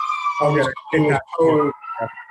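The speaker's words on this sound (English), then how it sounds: "sorry about the sirens" A wailing emergency siren rises and falls in repeated bursts, loud and fairly close, with a pause between cycles.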